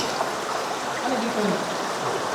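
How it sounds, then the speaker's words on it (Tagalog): A clear stream flows in a dark, remote spot in Manukan, Zamboanga del Norte, giving a steady, close gurgling rush of water that stays constant throughout. "May umagos na tubig."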